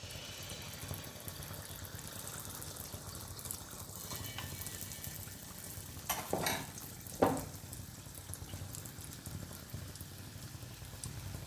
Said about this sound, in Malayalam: അതിലേക്ക് നമ്മൾ ഒരു തവി മാവ് നല്ല ചൂടായി വന്നിട്ടുള്ള എണ്ണയിലേക്ക് ഒഴിച്ച് കൊടുക്കുക.